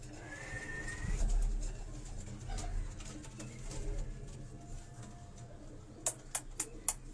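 Pigeons on a Karachi rooftop coo softly and low amid steady background noise, followed near the end by a quick run of sharp, close clicks.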